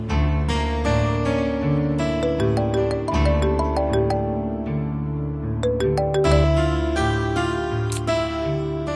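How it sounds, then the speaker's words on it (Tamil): A phone ringtone plays its melodic electronic tune in repeating phrases for several seconds, unanswered and clear, with no voices over it. "என்ன இவரு போனே எடுக்க மாட்டேங்கிறாரு?"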